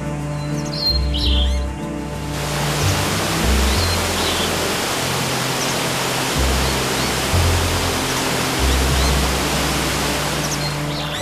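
Mountain streams and waterfalls rush in a steady broadband roar, loud and continuous, with bird chirps faintly calling over the water.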